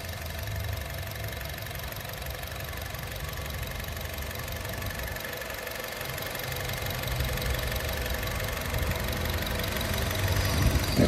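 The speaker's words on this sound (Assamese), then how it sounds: "পেট্ৰল ইঞ্জিন হয় হণ্ডা আইভিটেক ইঞ্জিন একদম নৰ্মেল চাউণ্ড ধুনীয়া হৈ আছে" A Honda City VX petrol i-VTEC engine idles up close with a steady, even hum and faint ticking, while a low background rumble comes and goes underneath.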